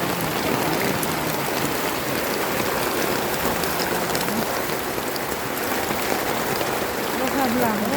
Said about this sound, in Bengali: বৃষ্টির খালি শুধু পানি আর পানি।